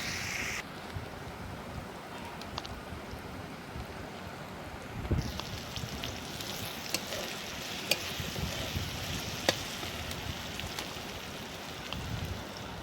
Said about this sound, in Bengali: আমি পেঁয়াজ লঙ্কাটা ভালো করে নাড়াচাড়া করে নিচ্ছি।